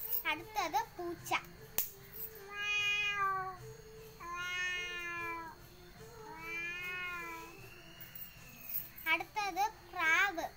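A child imitates a cat with a series of drawn-out, wavering meows, about four of them, loud and close, with short bursts of other vocal sounds at the start and end.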